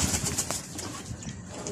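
Breeder pigeons in a loft at feeding time give brief coos amid rustling and a light flutter of wings, all close and fairly quiet.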